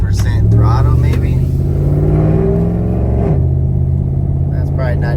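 A cammed 5.7 Hemi Ram truck pulls away at partial throttle, its loud, lumpy engine drone rising slowly and steadily with a rough rumble throughout.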